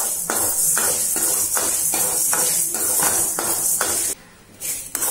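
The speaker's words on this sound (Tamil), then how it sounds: "100 கிராம் உளுத்தம்பருப்பை நல்லா செவக்க வறுத்துக்கணும்" Urad dal dry-roasted in an empty kadai without oil, heard as a steady series of rhythmic scraping and stirring strokes of a spatula against the pan, close and moderately loud, with a continuous hiss in the background.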